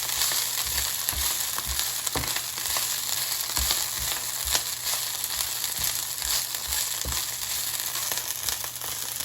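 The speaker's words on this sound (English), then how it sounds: "Now the oil has started sizzling, so I'm going to reduce the heat to medium-high and mix the arugula" Steady loud sizzling of arugula frying in hot oil over medium-high heat, with crackles and occasional stirring clicks, continuous throughout.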